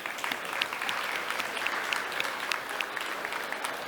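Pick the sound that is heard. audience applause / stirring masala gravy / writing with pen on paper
audience applause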